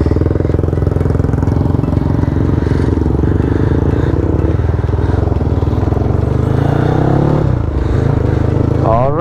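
A Yamaha Y15ZR motorcycle engine runs loud and steady on a dyno, a continuous close drone holding its pitch throughout, with a brief dip and rise near the end.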